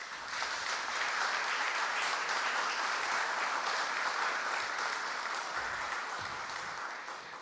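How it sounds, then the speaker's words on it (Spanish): Audience at a formal ceremony in Chile, donating a portrait of Bernardo O'Higgins, applauds a Senate president, with steady clapping that swells in and then eases off toward the end. "Por favor, un aplauso."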